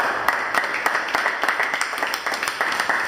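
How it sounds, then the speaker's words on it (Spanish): Short burst of applause in a university chemistry class, many hands clapping at once in a brisk, uneven patter that holds steady for a few seconds at moderate level. "Podemos darle un fuerte aplauso a las damas que están aquí."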